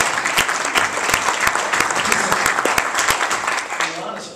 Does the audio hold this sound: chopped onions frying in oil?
no